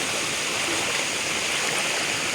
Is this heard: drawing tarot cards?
no